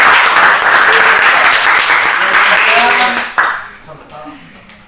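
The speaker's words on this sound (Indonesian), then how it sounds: "Tepuk tangan untuk" Classroom applause for a student's correct answer, a dense burst of many hands clapping loudly and close for about three seconds, then fading into a few scattered claps as children's voices take over.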